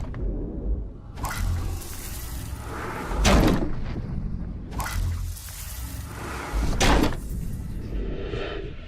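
Desk drawers opened and shut during a search in Beyond: Two Souls, with several quiet wooden slides and knocks spaced a few seconds apart against a soft room hum.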